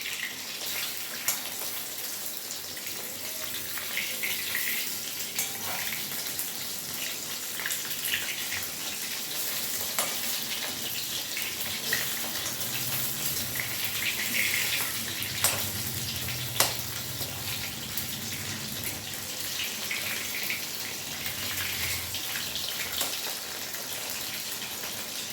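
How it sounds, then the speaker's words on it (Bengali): Chili fish pieces frying in a pan, a continuous hissing sizzle held at a moderate, even level with occasional small pops and crackles. "এবার আমি চিলি ফিশগুলো ভেজে নেব"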